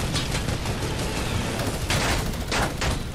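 Enemy gunfire in the Fortnite Air Royale game mode, a dense run of rapid shots and bursts with two louder volleys toward the end, continuous and fairly close, with no voices over it.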